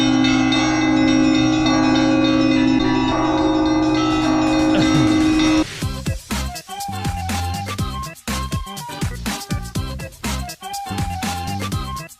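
Church bells ringing in Moscow: a long, rich sustained bell tone that gives way to a dense, rhythmic peal of many struck bells, loud and continuous.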